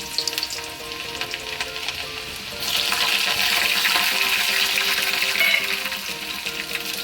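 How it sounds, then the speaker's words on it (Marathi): Garlic sizzles in about two spoons of hot oil for a tadka, a steady near frying hiss that swells louder partway through as stirring goes on, with no voices. "ही आता लसूण टाकलेली आहे"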